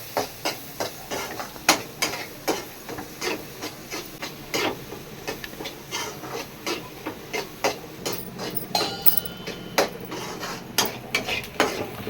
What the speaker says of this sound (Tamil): நல்லா வெங்காயம் வதக்கட்டும்.